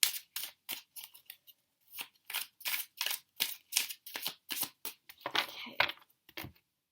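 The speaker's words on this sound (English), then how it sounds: "let's do one more shuffle" Tarot cards being shuffled by hand: a quick series of crisp, papery riffling bursts, close and fairly quiet, in an irregular rhythm with brief pauses and no talking.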